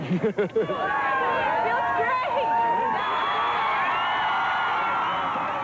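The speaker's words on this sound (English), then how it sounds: "The crowd's biggest welcome came for fast-moving Michael Keaton" A large crowd cheers and shouts in a steady roar at the 1989 Batman movie premiere, with whoops rising over the din and a brief rhythmic chant at the start.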